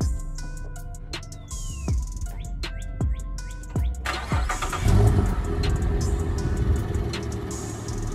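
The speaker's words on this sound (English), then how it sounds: "I'm about to start the car, but the car already warm" A straight-piped Cadillac's already warm engine cranks with several whining starter bursts, then catches and settles into a loud, rough idle close by.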